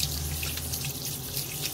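Tap water runs steadily into a bathroom washbasin being filled to rinse freshly gathered sea snails, a close, continuous splashing stream with no voices.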